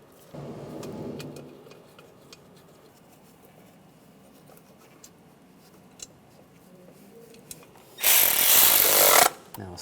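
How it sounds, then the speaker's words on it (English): Bolts go back into the intake of a 1996-2002 Toyota 4Runner during an intake gasket replacement: faint ratcheting clicks and small metallic taps, then a loud, steady whir of a power tool running for about a second and a half. "Now we can put the bolts back in."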